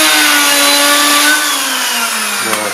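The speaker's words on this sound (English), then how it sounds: "This is like a bigger version of like a grinding arm, but I use it to grind, get things flat" A workshop grinding machine with a magnetic chuck grinds a metal part flat, a loud harsh continuous whirring roar close by whose pitch sags slightly as the cut bears down, with no voices.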